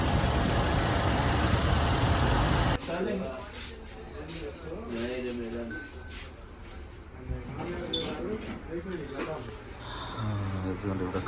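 A car engine runs just after starting, its steady rumble sitting under close conversation for most of the stretch, following a brief burst of loud broadband noise at the very start.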